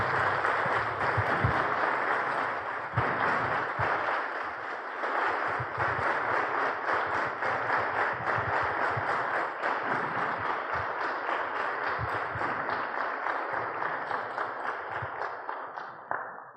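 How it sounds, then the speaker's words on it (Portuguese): A congregation applauds at the installation of a deacon in a Lutheran parish in Santa Maria de Jetibá, Brazil, with a dense, sustained round of clapping that carries on evenly and tapers slightly at the close. "Arilson, com uma salva de palmas"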